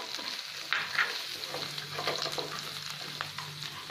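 Green chillies and curry leaves with asafoetida and turmeric sizzling in hot oil, a continuous close crackling hiss with a few small pops and a low hum beneath.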